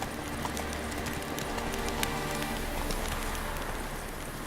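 Hooves of Geralt's horse Roach clop steadily in The Witcher 3 under a dense wash of ambient game noise, sounding like rain. The footfalls come in a continuous even rhythm at moderate loudness.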